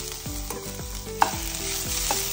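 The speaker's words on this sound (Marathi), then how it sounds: "सोय बरी ब्राऊन जायसर अशी बरी भाजून घेवपाक जाय।" Grated coconut roasting in a pan for a Goan mackerel dish, stirred with a spoon in soft repeated scrapes over a steady low sizzle, close and quiet, with no talking.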